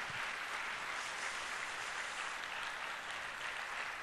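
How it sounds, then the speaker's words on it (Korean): A Korean church congregation applauds in thanks to the pastor at a spring revival meeting, a steady, fairly distant wash of many hands clapping with no speech over it. "한번 감사의 박수 하겠습니다"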